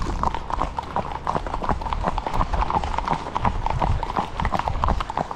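A horse trots on a trail during a hack ride, its hooves clip-clopping in a steady, fast rhythm close by, with continuous movement and rustle beneath the beat.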